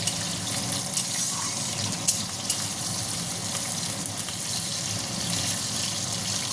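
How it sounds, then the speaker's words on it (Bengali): Potatoes fry in hot oil, a steady, dense sizzle that holds throughout at even loudness, with a few faint clinks. "এবার আলুগুলোকে ভেজে নেবো একটু ভালো করে।"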